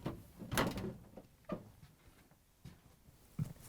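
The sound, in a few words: refrigerator doors being opened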